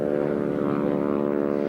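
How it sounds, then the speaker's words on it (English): An agricultural sprayer plane powered by a Pratt & Whitney R1340 radial engine drones steadily, a loud continuous throbbing hum with no breaks and no voices. "the old Pratt & Whitney R1340 sure sounds pretty, doesn't it?"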